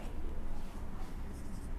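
Pen scratches steadily on paper as the given conditions of a Class 12 electrostatics capacitor problem are written out by hand, a soft continuous scribble close by with a faint room hum and no voices.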